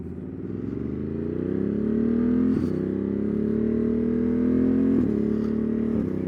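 A Triumph Street Triple or Ducati Monster motorcycle engine idles with a deep, throbbing hum, rising gradually in pitch as it revs up, with a couple of brief clanks.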